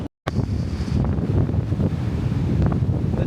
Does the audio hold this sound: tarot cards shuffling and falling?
no